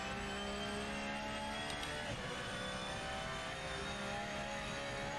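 A Porsche GT3 race car on the Sao Paulo circuit in a racing video game, a sustained high engine whine holding steady tones at full throttle, continuous and fairly quiet with no talking.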